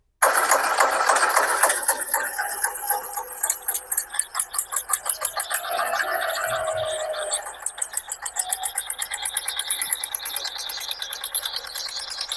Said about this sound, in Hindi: अब हमारा ट्रैक्टर चलने वाला है